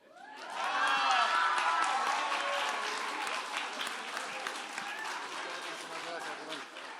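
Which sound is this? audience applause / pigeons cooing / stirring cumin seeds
audience applause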